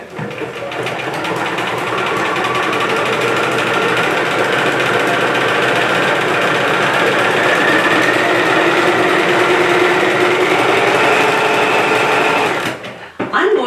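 A sewing machine runs steadily at close range, stitching an appliqué on an apron for a McCall's pattern 2947, a continuous high-speed whir lasting over twelve seconds before stopping abruptly.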